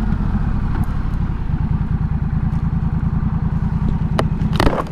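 A Honda Rebel 1100 motorcycle with an aftermarket Coffman's Shorty exhaust idles close by with a deep, steady, throbbing exhaust burble that holds even throughout, with a couple of brief clicks near the end.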